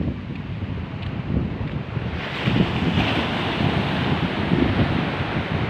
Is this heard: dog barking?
no